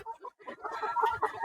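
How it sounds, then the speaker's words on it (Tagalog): Chickens cluck in a small backyard chicken coop, short close calls overlapping in a busy, uneven chatter. "Ay, ganda namang manok."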